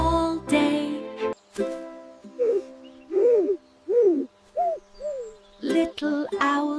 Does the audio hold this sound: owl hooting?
yes